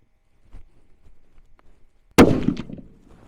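A Seekins HAVAK PH2 rifle chambered in 300 PRC fires a single sharp, loud shot at an outdoor range after some quiet handling noise, with the report ringing out and decaying over about a second.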